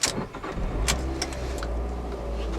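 A 2012 Fiat 500 Sport's 1.4-liter engine cranks and catches, then settles into a steady low idle, close by with a few light clicks over the hum.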